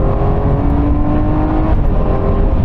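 A Lamborghini Aventador engine roars loud and close in a sustained rev, a dense, strained mechanical tone with no voices over it.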